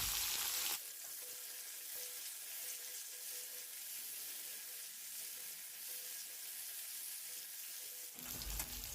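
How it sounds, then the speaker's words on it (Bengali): Bitter gourd pieces coated in salt and turmeric fry in hot oil for a Bengali shukto, giving a steady, close sizzle that runs unbroken for most of the stretch with no talking. "একই তেলের মধ্যে আগে থেকে নুন হলুদ মাখানো উচ্ছেগুলোকেও ভেজে নেব।"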